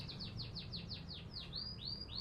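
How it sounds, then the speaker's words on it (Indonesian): Caged canary and lapet birds chirp in a quick run of about ten bright, sweeping tweets, fairly faint over a low background hum with no talking. "Ada burung kenari dan juga ada lapet ya"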